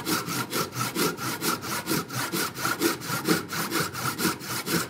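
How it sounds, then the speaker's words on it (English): A hand saw works through oily wood in steady rhythmic strokes, each push and pull rasping clearly and close up, with no voices over it. "the saw just slipped right into the kerf, right up to the knife wall"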